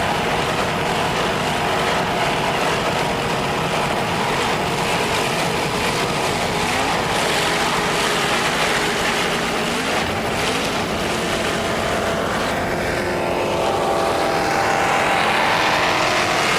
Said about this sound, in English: Boat looks good and the engines sound excellent.